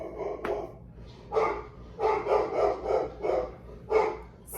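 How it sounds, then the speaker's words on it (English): A dog barks at a package delivery, a series of about six or seven clear, rhythmic barks at moderate distance, with no talking. "I had a package delivered and my dog wants them to know what's up."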